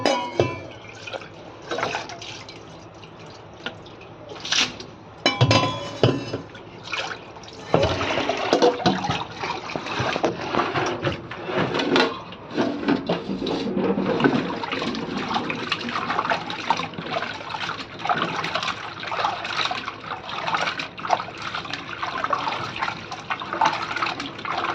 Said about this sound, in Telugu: చికెన్ కడుగుతున్నారు.